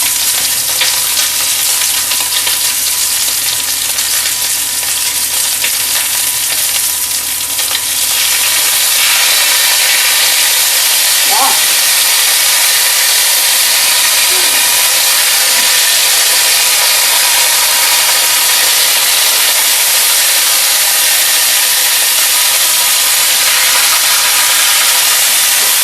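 Lamb chops pan frying on low heat give off a loud, continuous hiss and sizzle with fat spattering steadily, close up and without talk.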